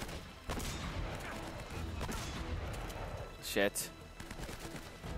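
Gunfire in the Uncharted video game, a burst of shots over steady game noise with a sharp loud crack near the end while a man swears under his breath.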